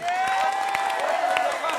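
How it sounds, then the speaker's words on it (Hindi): Studio audience clapping on a Hindi news debate show, a steady mass of claps mixed with crowd voices and a sustained vocal tone held over the top for the whole stretch. "सर प्लीज तालियां मारिए भाई"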